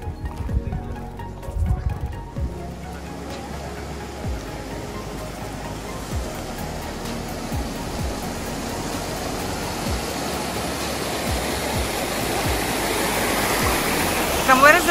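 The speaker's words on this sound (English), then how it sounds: "This water is coming from up the hill." Water flowing down from a hillside, rushing and splashing steadily nearby at Ammiq Wetland in Lebanon's Bekaa Valley, a broad continuous flow that grows louder toward the end, with a few faint footsteps or knocks early on.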